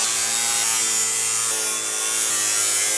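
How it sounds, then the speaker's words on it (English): A metal cutoff wheel on an angle grinder slices through old aluminum siding, a loud, steady, high-pitched grinding whine held continuously at close range with no voices. "I'm going to grab my angle grinder. This is a cutoff wheel for metal, works amazing on aluminum."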